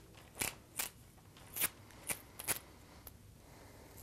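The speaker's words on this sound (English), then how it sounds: "I'll just spin the blank, get a nice line of masking tape, keeping the tape pretty firm." Masking tape pulled in short crackling bursts as it wraps firmly around a hand-spun fishing rod blank, with several separate tearing rips spaced unevenly through a quiet room.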